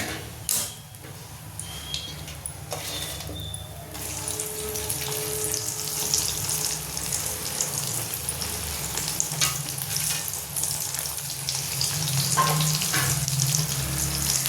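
Okra and chilli bonda fritters frying in hot oil give a steady, bubbling sizzle that runs the whole way through, with some stirring and clinks. The sizzle grows a little fuller toward the end.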